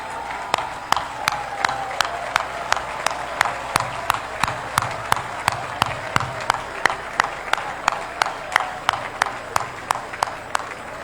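A standing audience at the inauguration of the new FECAFOOT headquarters claps in tribute to Iya Mohamed, with a sharp, regular rhythmic clap about twice a second in unison over a dense bed of loud crowd applause throughout.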